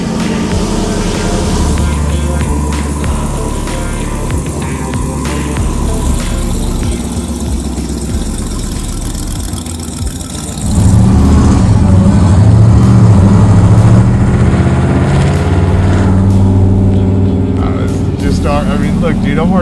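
A 750-horsepower Hellcat-powered Dodge Power Wagon custom build idles at first, then its engine jumps to a louder, deeper roar and revs hard through the rest of the clip.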